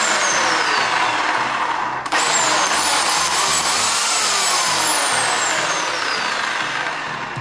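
Black+Decker 15-amp, half-horsepower corded electric 18-inch chainsaw (CS1518) motor whining loudly and steadily up close, with a brief dip near the two-second mark before the high-pitched drone resumes and slowly tapers.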